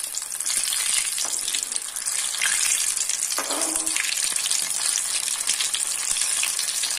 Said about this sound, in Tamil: கோட் பண்ணி வச்சாச்சு இப்போ எண்ணெயில போட்டு எடுத்துறலாம்